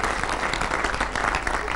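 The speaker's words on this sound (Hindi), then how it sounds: "एक बार और तालियां उनके लिए" An audience at a Hindi poetry gathering breaks into applause, dense continuous clapping from a crowd throughout the brief moment.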